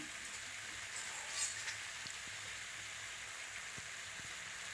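Pumpkin and radish curry sizzles softly in a pan as it is sautéed, a steady faint hiss with a few light ticks and pops, no talking.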